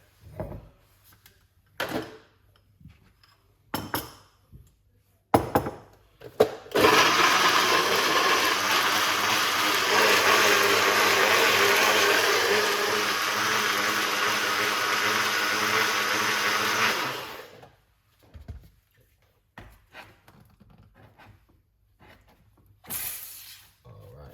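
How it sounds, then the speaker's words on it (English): A blender whirs through ginger, pineapple and lime for about ten seconds, a loud steady motor roar. Before and after it come scattered knocks and clatters, and a voice speaks briefly. "let's blend."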